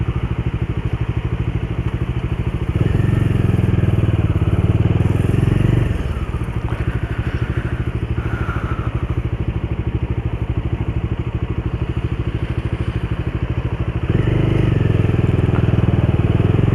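Bajaj Dominar 400 motorcycle with a freshly painted exhaust being ridden, its engine giving a continuous loud, throbbing rumble that swells and eases with the throttle and is layered with wind noise.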